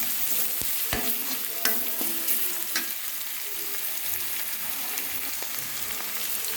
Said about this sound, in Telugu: ఉల్లిపాయలు ఎర్రగా వేగినాక ఇందులో అల్లం వెల్లుల్లి పేస్ట్ వేసుకుని బాగా